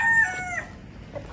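An Aseel rooster crows once, briefly and up close, with a bright, strained call that fades into quiet farmyard background.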